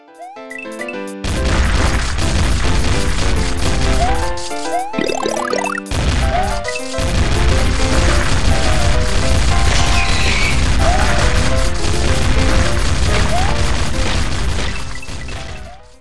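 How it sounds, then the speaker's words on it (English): Shotgun-wielding Super Mario game audio: continuous loud music with repeated booming blasts and crashing impacts, a brief drop near the middle, running steadily for about sixteen seconds without speech. "The third game from my older projects is Super Mario with a Shotgun."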